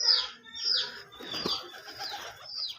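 Pigeons flutter and flap their wings in short bursts close by, mixed with soft chirps and coos, repeating several times.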